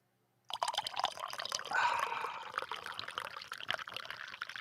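Liquid poured steadily into a container in the morning, a close, continuous splashing trickle that starts suddenly after a brief silence and runs on with small gurgles and drips, no talking.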